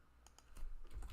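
Code typed on a computer keyboard, a quick run of soft, close key clicks with a few taps and then a slightly louder cluster at the end, in a quiet room with no talking.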